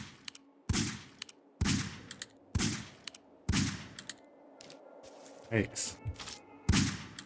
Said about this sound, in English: Looks like he's firing some sort of SVD